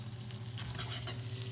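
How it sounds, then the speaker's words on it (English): Butter sizzles and fries in a hot pan for pork chops, a dense, steady crackle close by with a low hum beneath, loud and continuous with no talk. "it's sizzling right away"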